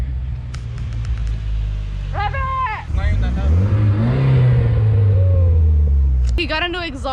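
Car fitted with a new exhaust and intake revs up into a loud, close, deep rising roar that holds and then drops, with people talking and calling out over it before and after.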